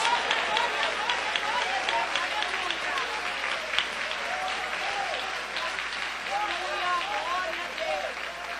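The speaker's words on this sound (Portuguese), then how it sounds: "Eu quero ouvir palmas misturado com glória a Deus." A church congregation claps steadily while voices call out shouts of praise, a dense continuous wash of clapping with cheering and exclamations layered throughout, loud and sustained.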